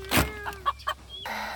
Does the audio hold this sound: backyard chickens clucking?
yes